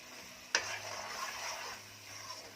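Roasted ground masala paste drops into a pan of softened tomato for Malvani egg curry with a sharp splat, then sizzles and fries steadily at moderate volume, close by, with no talking.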